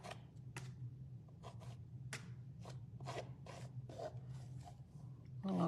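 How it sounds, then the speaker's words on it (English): Resin being scraped across a glass-and-resin flag canvas, heard as a series of short rasping strokes in an uneven rhythm, close and fairly quiet over a steady low hum. "I'm gonna scrape."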